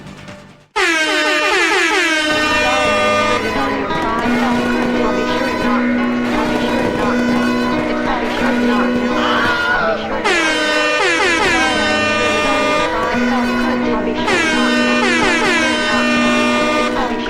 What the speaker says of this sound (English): It's gonna get the air horn. Oh yeah, big air horn.